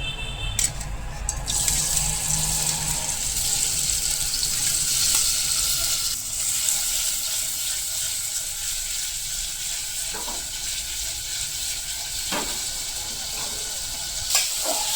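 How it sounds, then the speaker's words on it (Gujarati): Paneer pieces frying in oil in a pan, a steady, close hiss of sizzling that runs throughout with a few faint clicks and stirring bumps. "હવે પનીરના ટુકડાને ફ્રાય કરી લેશું."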